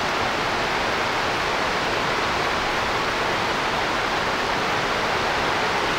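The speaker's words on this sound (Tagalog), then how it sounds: "Narinig nyo ang buhos ng ulan." Heavy rain pouring down in a steady, dense, loud rush that continues unbroken throughout, with no voices.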